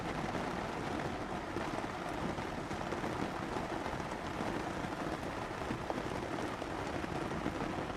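Steady rain falling in theHunter: Call of the Wild, a continuous even hiss of drops on surfaces that stays constant throughout without pauses.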